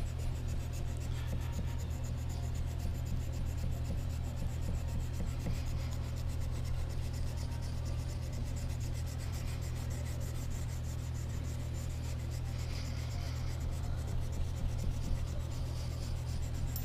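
Steady abrasive rubbing from hand finishing a knife blade, a continuous scratchy rasp that goes on without a break under a low constant hum, with no talking.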